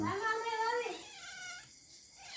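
A cat gives one close, drawn-out meow that falls in pitch, followed by faint background noise and a quieter trailing sound.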